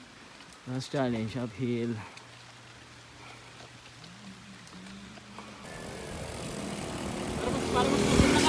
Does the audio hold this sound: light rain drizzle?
yes